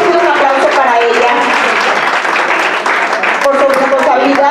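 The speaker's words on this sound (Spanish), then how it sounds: "La verdad es que un aplauso para ella" An event audience applauds the organization's president, loud, dense clapping that continues steadily, with a voice partly heard over it.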